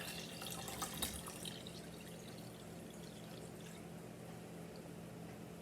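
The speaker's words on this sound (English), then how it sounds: "pour the water very carefully" Water poured carefully into a pitcher while making Kool-Aid, a soft continuous trickling stream that is quiet and steady throughout, with no talk.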